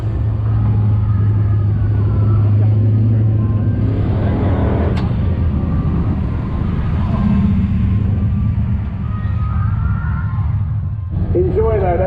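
A procession of V8 muscle cars at a race track event rolls past with a steady deep engine rumble and occasional revving, loud and continuous, while someone talks over it.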